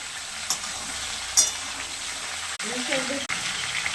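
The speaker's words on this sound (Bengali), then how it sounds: "এবারে এগুলো ভালো করে ভেজে নেব" Mixed vegetables fry in a pan for Malabar spinach curry, a steady sizzle with a couple of sharp spatula knocks and a short burst of frying as more goes in.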